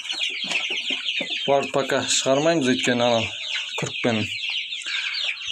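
Hens and newly hatched chicks cluck and peep continuously in a coop, close and busy, while a person speaks over them.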